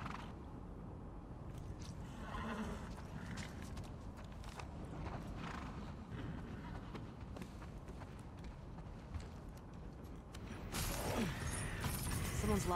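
A horse in The Last of Us Part II video game moves with soft clip-clopping hooves and shuffling footsteps amid game ambience, quiet and low, the sound thickening near the end with no clear neigh.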